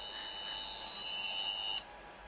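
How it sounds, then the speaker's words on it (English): An electronic alien radio effect from the Appzilla 2 phone app plays a steady high-pitched tonal whine for nearly two seconds, then cuts off abruptly, leaving near silence. "we start with the alien radio, which is absolutely"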